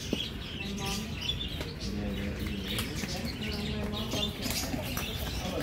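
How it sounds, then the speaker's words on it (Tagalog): Pet birds indoors chirping and cooing with occasional wing flaps, a busy mix of calls running throughout while people talk nearby. "Marami akong ibon."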